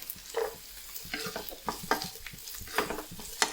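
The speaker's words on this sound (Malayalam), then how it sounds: "ഇനി ഇഞ്ചി കഷ്ണങ്ങൾ ഇട്ട് കൊടുക്കാം." Ginger pieces fry in a pan with garlic and curry leaves, a soft crackling sizzle broken by repeated stirring scrapes at close range.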